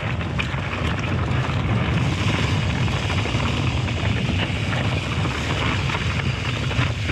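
Strong, constant wind on a high hilltop at Afan Masts buffets the microphone with a loud rushing roar throughout, broad and unbroken, with no voices.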